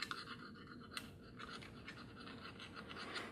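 Leftover paper gasket material is scraped off a copper surface from a failed watercooling setup, giving quick rasping strokes close up with a few sharper scratches.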